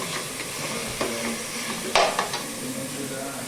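Tomato masala with curd sizzles in a pan while a spoon stirs and scrapes through it, a steady close frying hiss broken by sharp clinks of the utensil against the pan.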